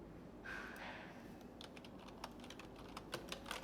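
Clicky keystrokes on a computer keyboard while building a PowerPoint slide, beginning sparse and quiet, then turning into quicker, sharper, irregular taps close to the microphone.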